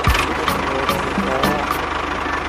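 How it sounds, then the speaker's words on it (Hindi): Engine of a mini DIY toy tractor driving over a small concrete bridge, a steady close motor drone with a rhythmic pulse and periodic ticking clicks running throughout. "ये देखो, ट्रैक्टर जा रहा है ना।"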